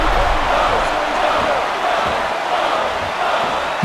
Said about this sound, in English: The crowd showing their support for John Bones Jones.